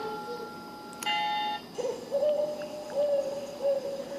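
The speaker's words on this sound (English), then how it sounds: "the owls" Owl hoots from a children's noisy sound book of night sounds, a short electronic playback with a click, then a few repeated hoots, fairly close and clear, no talking.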